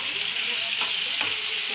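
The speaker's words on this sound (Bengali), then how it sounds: "খুব সামান্যই আলু ভাজছি" Potatoes frying in a small frying pan hiss steadily, with a few soft stirring scrapes breaking through the continuous sizzle, close and moderately loud, no talk.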